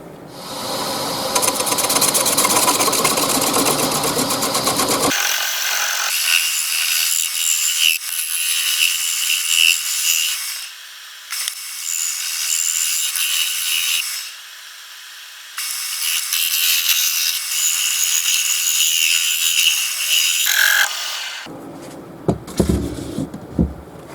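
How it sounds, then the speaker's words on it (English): Steady rasping strokes of wood being sanded by hand, loud and close, running in long continuous bursts with a few short pauses between them. "Right, down to a bit of sanding now."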